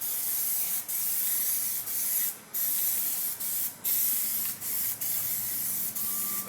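Plasti-Dip rubber coating is sprayed from an aerosol can over a car tire in a body and paint shop, in a series of long hissing bursts, each broken by a brief pause, close and steady.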